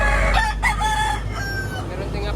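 A bullstag rooster at a Lipa, Batangas market crows close by, a single bright call over a steady murmur of crowd noise.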